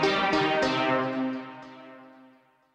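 Alchemy synthesizer software instrument in Logic Pro played from a MIDI keyboard, with a few bright, harmonically rich notes struck in quick succession and then left to ring and slowly fade out alone.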